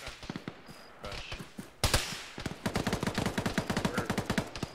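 Rapid bursts of automatic gunfire crackle through an ArmA video game battle, an early scattering of shots giving way to a loud sharp crack, then a dense rhythmic string of machine-gun fire running steadily to the end.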